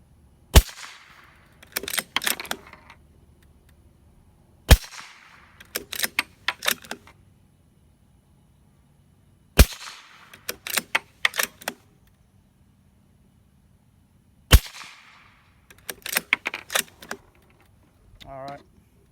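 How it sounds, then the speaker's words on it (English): A suppressed 300 Blackout custom bolt-action rifle fires into dirt: four sharp, evenly spaced shots, each followed by a cluster of clicks and clacks from working the bolt, with brief faint talk between shots. "I'm gonna throw a couple shots in the dirt so you can just hear the can and hear the impact down there."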